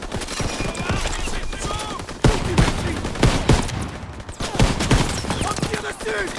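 Gunfire crackles in a World War II video game battle in the Ardennes, with rapid shots and bursts over a busy background and some voices.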